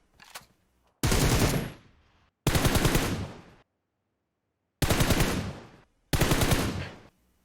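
Four bursts of rapid automatic Beryl rifle spray fire in PUBG Mobile, each lasting about a second, separated by short pauses of silence.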